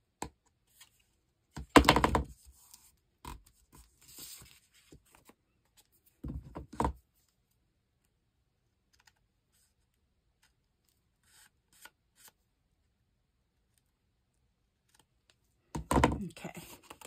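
Scissors trim overlapping paper in a handmade journal, a few short crisp snips and rustles separated by long quiet gaps, close and fairly soft.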